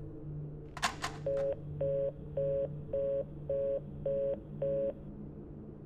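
A telephone dialing sequence in the game The Suicide of Rachel Foster: a few quick clicks, then seven evenly spaced touch-tone beeps in a steady rhythm over a low hum, fairly quiet and alone.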